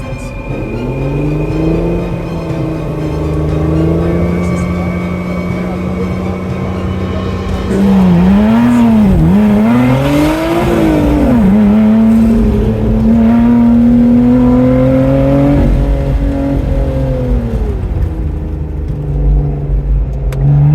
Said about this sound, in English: the plaque exhaust is loud